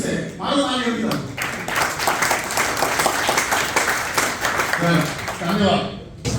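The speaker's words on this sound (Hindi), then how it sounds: "मारो ताली अभी तक।" An audience at a gathering claps steadily for several seconds, with chatter and speech running over the applause.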